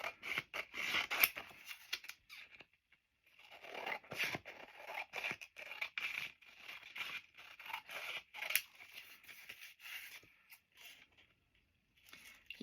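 Scissors cut along the edges of gelli plate print paper in quick, repeated snips with crisp paper rustling between bursts and a short pause partway through, close up with no talking.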